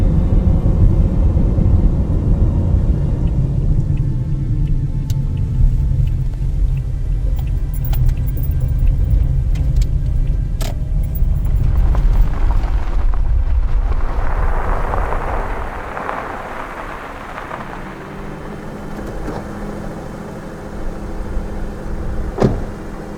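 A car drives up a hill road on a wildlife drive after a U-turn, its engine droning loud and steady for about fourteen seconds before easing to a lower rumble, with light rattles and jangling inside the cabin.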